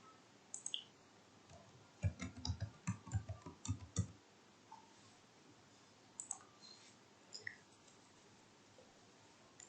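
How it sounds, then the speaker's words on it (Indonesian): Mouse clicks and keyboard typing on a computer, a dense burst of close, sharp clicks and taps in the middle with a few scattered clicks before and after over quiet room tone. "Dari sini klik salah satu, kemudian ketik di keyboardnya."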